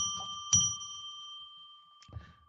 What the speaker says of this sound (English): I'm going to now ring a bell 3 times to declare a sacred space